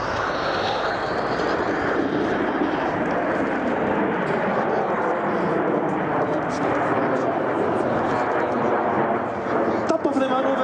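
Frecce Tricolori jet aircraft fly in formation overhead at an air show, a loud, continuous broadband roar that holds steady throughout with no break.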